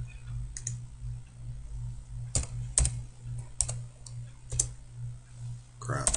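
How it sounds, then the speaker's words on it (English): Commands are typed on a computer keyboard during drafting software work, with scattered sharp key clicks and a few quick double taps over a steady low hum, close and distinct, with no talk. "We'll type E again for erase."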